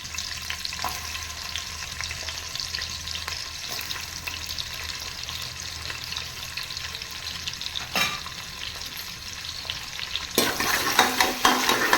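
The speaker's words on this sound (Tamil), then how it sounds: "எண்ணெய் காஞ்சிருச்சு நம்ம வந்து வெங்காயம் போட்டுக்கலாம்" Onions fry in hot oil in a pan, making a continuous close sizzle with soft stirring. Near the end the sizzle flares sharply louder and brighter. There is no talking.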